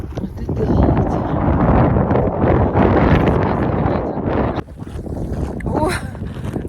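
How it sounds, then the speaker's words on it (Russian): Strong March wind among snowdrifts in Ukhta, Komi Republic, Russia, buffets the microphone with heavy, roaring gusts, easing briefly before a sharp gust returns; a voice is faintly heard toward the end. "Ветер просто нереальный."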